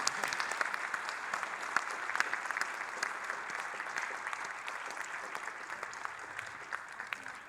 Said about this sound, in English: I'll just let Rosenthal lead the clapping.